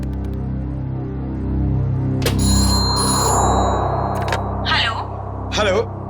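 Ringback tone of an outgoing phone call: tonal rings repeat at a steady pace, with bursts of voices in between over a low droning background, while people talk nearby.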